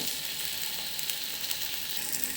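Tomatoes frying in oil in a pan while cooking a Karnataka-style green gram tempering, a steady, bright, close sizzle that runs continuously with no talking.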